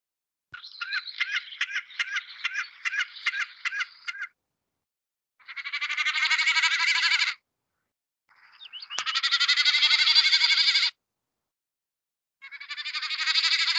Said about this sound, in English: Now that noise is described as the drumming of the snipe.